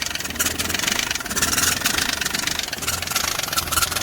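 A Nissan Magnite engine with a broken engine mounting idles steadily nearby in a repair garage, with a rough, rhythmic chugging that holds an even level throughout, and no one speaks.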